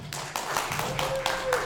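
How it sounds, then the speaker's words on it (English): Scattered clapping from a small studio audience on a talk show as a guest is welcomed, a few distinct hand claps at close range over a low background hum, with a brief tonal whine near the end. "please give a big round of applause to Shoshana"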